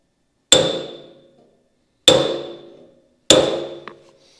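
Three sharp metallic strikes of a hammer tapping a pointed tool on a 1952 Chevy Styleline fender during repair, each ringing out and fading over about a second, spaced apart with silence between them.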